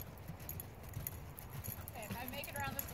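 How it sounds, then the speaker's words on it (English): Horse cantering on an arena surface, hooves thudding in a steady, fairly faint rhythm under continuous talk from a rider and instructor. "Your horse is cantering slow again."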